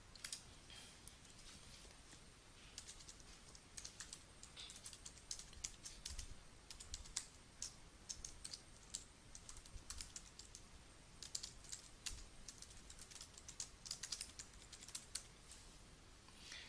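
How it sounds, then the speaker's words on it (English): Fast, continuous typing on a computer keyboard while database details are entered for a backup setup, with a dense run of close, crisp key clicks and a few louder taps lasting throughout, no voices. "So I just type in the details from the database we created earlier"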